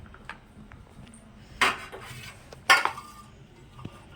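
A knife works through a bitter gourd on a cutting surface, giving two distinct, sharp clacking strikes in an otherwise quiet kitchen, with a few faint taps between them.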